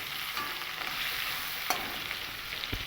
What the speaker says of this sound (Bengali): এপিট ওপিট উল্টে একটু ভেজে নেব। খুব বেশি কিন্তু ভাজবো না।